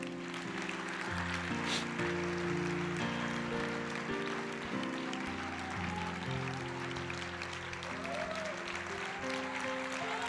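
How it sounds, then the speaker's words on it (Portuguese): A church congregation claps along under loud sustained music, the clapping a continuous, moderately distant patter beneath the chords. "aplauda o Senhor"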